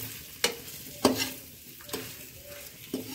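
Thick green chillies for pickle roasting in a pan, a soft sizzle broken by several sharp clinks and scrapes of a spoon against the metal, with no talking.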